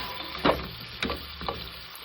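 Onions frying in butter for tadka rice with dal, a low steady sizzle with a few louder stirring scrapes near the pan, no talk.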